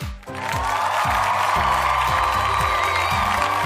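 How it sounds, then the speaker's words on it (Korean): Studio audience cheering and clapping, a broad sustained wash of crowd noise swelling in after a brief dip and holding loud to the end, with a steady rhythmic low beat running underneath. "박수!"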